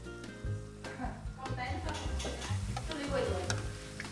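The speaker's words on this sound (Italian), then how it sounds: "She tests the temperature by dipping the edge of the pasta into the oil." Seadas, Sardinian pastries, frying in hot oil in a home kitchen, with a steady crackling sizzle and scattered ticking pops running close and continuous under a low hum.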